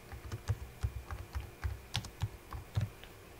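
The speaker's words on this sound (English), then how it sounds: "I'm going to click on the page, and I'm going to begin typing" Quiet, close typing on a computer keyboard: a quick irregular run of soft key taps and clicks, with no talk.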